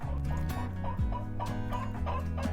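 Backyard garden chickens clucking steadily, a run of close, overlapping low clucks and short calls with no talking.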